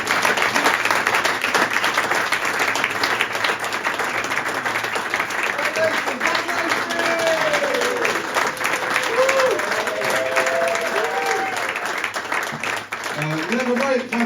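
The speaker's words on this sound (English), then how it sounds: "Another round of applause, please, for Zach Lacey." A pub comedy-night audience applauds and cheers steadily after a comedian's set, and the clapping carries on throughout while a voice talks over it.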